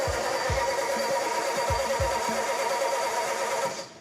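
A Bonneville-style race car engine is cranked over in a series of low, rhythmic thumps, close and loud beneath broadband engine noise. It fails to catch firmly and fades out near the end.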